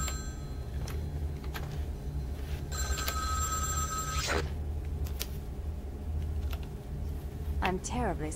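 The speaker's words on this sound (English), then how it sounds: "Oh, there's a telephone ringing somewhere." Telephone ringing somewhere in the game Vampire: The Masquerade – Bloodlines, with repeated bell-like bursts over a steady droning ambience and clicks, followed by a faint voice near the end.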